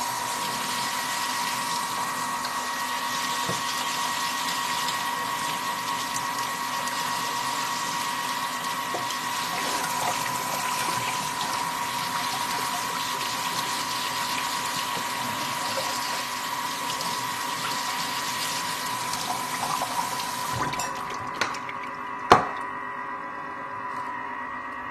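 Jasmine rice rinsed under a running tap, a continuous steady rush of water with a faint tonal hum, ending in a few knocks and clatters as the flow cuts off.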